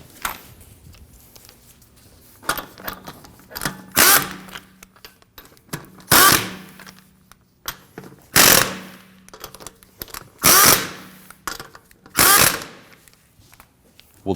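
Lug nuts on a 2016-2022 Honda Pilot rear wheel are snugged down with a ratchet: sharp clicking bursts repeat at intervals, several loud runs of ratcheting separated by quieter handling noises, close up.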